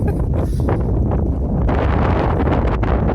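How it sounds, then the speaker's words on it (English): Strong wind buffets the microphone in continuous low rumbling gusts, loud and unbroken throughout, on a walk in Guardamar del Segura, Spain. "It's windy"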